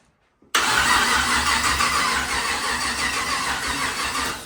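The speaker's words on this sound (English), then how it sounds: "When you crank, it drops to 11 and a half." A 6.2 V8 in a 1939 chopped Chevy hot rod cranks and catches abruptly after a brief near-silence, then runs loud and close with a rough, steady roar that eases slightly toward the end.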